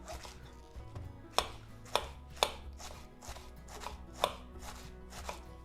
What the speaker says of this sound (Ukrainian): І нарізаємо я спочатку її ось так вздовж.